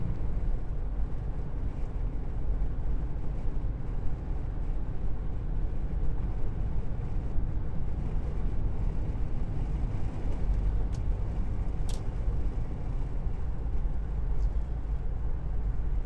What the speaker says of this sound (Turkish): Rüzgar seslerini duyuyorsunuz siz de. Yalıtım sıkıntılı.